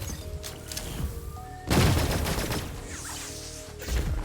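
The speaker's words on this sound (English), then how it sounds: "Let's throw a grenade at them." A thrown grenade in Cygnus Enterprises bursts into a loud, dense blast partway through, followed by a rumbling, crackling tail that slowly fades under ongoing game noise.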